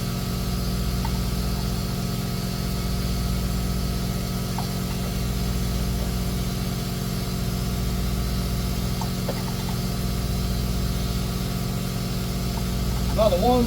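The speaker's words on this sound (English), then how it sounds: "Of course, it wouldn't be right if we couldn't have a little bit of compressor action here." An air compressor runs in a workshop during a Chevy Cruze water pump and thermostat replacement, a steady low mechanical hum that holds unchanged throughout.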